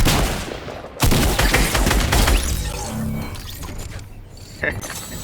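Gunfire in a Fortnite match comes in dense bursts of rapid shots and impacts, loud at first and then thinning into scattered pops and clanks, with someone talking over the action.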